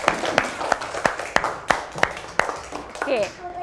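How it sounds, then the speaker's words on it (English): Children in a Year 1 classroom clap together in a steady, evenly spaced rhythm of sharp nearby claps, and voices rise briefly at the end. "give them a clap"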